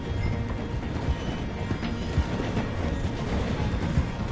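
Train rolling on rails in Red Dead Redemption 2 as it slows through a station: a continuous rumble with irregular clanks and rattles of wheels and carriages, loud and near, with no talk.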